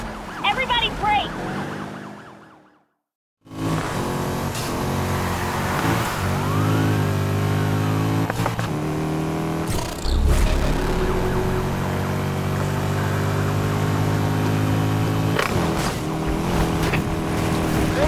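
A police siren wails in pursuit during a street race in Need for Speed Heat, its rising and falling tone riding over a loud, continuous engine roar and game music after a brief drop to silence.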